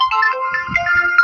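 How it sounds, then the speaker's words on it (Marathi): A phone rings with a bright electronic melodic tone, loud and close, lasting just over a second with no speech. "फोन बघा कोणाचा आहे."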